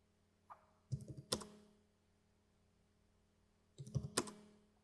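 Short bursts of keyboard typing, two quick clusters of clicks with a gap between them, close and quiet in an otherwise still room.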